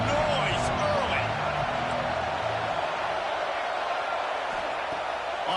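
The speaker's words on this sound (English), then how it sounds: "This crowd bringing the energy and noise early." Stadium crowd noise fills a college football video game matchup between Arkansas and Texas A&M, a dense continuous roar with scattered cheers, under a commentator's voice early on.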